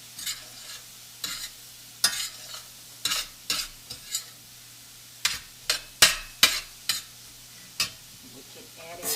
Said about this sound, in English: Mix it up really well.